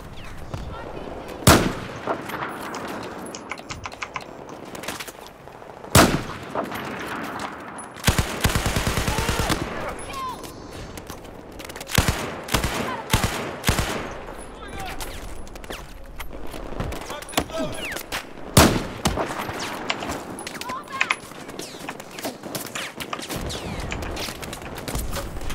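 Gunfire in the Battlefield video game rattles in repeated bursts and single sharp shots over about 25 seconds, loud and close, with sustained automatic volleys and frequent talk in between.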